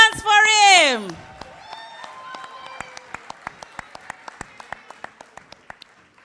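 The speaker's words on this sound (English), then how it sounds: "Put the hands up, clap your hands for him" A small audience at a Jamaican long service awards ceremony claps in a steady, sparse rhythm after a loud voice speaks, individual claps distinct and moderately near, fading slightly.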